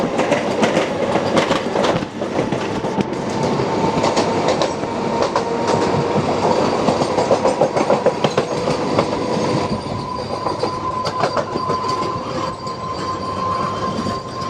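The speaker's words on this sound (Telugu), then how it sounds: "విశాఖపట్నం సికింద్రాబాద్ వందే భారత్ వెళ్తుంది చూడండి" The Visakhapatnam–Secunderabad Vande Bharat express, train 20833, rushes past on a parallel line near Dornakal Junction while the listener rides a MEMU at speed. It makes a loud, sustained rumble with steady wheel clatter and rail noise throughout.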